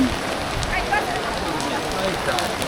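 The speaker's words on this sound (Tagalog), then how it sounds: "Ayun, lakas ng ulan." Dense, steady hiss of heavy rain pattering on surfaces and umbrellas in Tokyo, loud and unbroken, with faint voices mixed underneath.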